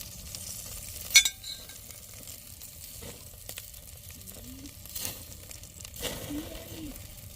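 Beef steaks and shrimp kabobs sizzle on a grill, a soft steady crackle with a sharp metallic clink early on, scraping and brief muffled voices now and then.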